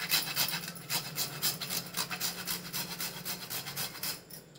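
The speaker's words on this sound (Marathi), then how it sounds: "जायफळ किसून टाकते." Nutmeg rubbed against a small grater over a bowl of aamras, giving a steady run of dry, rasping scrapes in quick, even strokes at close range, with no talking.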